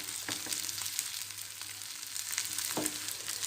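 Tomatoes frying in a hot pan with chilies and onion for a Karnataka-style chicken curry, a steady close hiss and crackle with a few faint scrapes.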